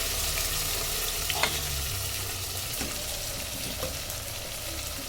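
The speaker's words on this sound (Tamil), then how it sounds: "வெங்காயம் சேர்த்துக்கலாம். வெங்காயம் நல்லா வதங்கணும்." Finely chopped onions sautéing in oil for brinjal curry, a steady bright sizzle with occasional stirring clicks from a spoon in the pan.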